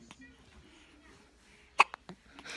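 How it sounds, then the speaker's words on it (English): A baby hiccups, tiny and close, with a few quick soft hics near the end; someone speaks softly around them. "Look at these teeny tiny hiccups."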